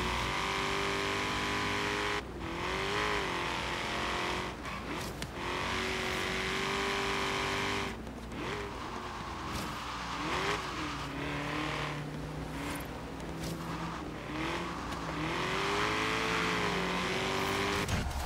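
A race car engine in the Forza Horizon 3 video game drones and revs continuously, with pitch rising and falling through gear changes and tires squealing now and then, loud throughout with no talking.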